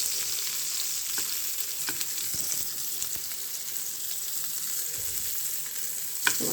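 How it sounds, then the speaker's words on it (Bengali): Pointed gourd (potol) coated in turmeric, salt and chili sizzles steadily in hot oil in a pan, a soft continuous frying hiss with occasional faint clicks of stirring and no talk. "পটলটা হলুদ লবণ মরিচ দিয়ে পটলটা ভেজে নিয়ে মাখিয়ে নিয়েছি, এখন ভাজছি"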